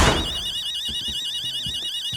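An alarm in the horror game Dark Hours sounds as a steady warbling electronic siren that carries throughout, with soft thuds and footsteps underneath.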